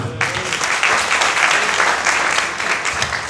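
Loud, dense applause fills a church gathering, a continuous wash of many hands clapping close by for a few seconds with no talk over it.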